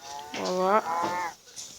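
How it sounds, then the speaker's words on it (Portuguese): A cow in a survival video game gives one clear, close moo that rises and then falls, followed by a shorter second lowing. "Nas vacas ali."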